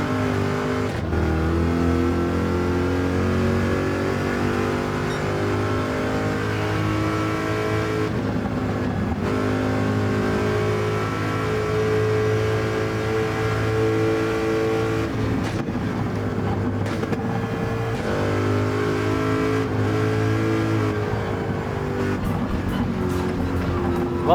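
Race car in Gran Turismo 7 roaring loud and close, engine pitch climbing in sweeps with quick drops at the early gear shifts, sustained throughout with no pauses.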